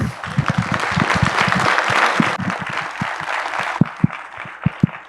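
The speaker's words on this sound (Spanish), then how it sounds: "Démosle un fuerte aplauso para darle la palabra, por favor." An audience at a talk on sustainable mobility applauds a speaker being welcomed, with dense, loud clapping that thins toward the end into a few scattered individual claps.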